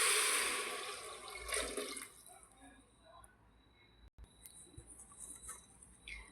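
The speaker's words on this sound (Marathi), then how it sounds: "गरम पाणी टाकून घेऊ।" Hot water gushes into spiced rice in a pressure cooker for Vidarbha-style fodni khichdi. A loud, close pour opens, then fades into quieter splashes and drips.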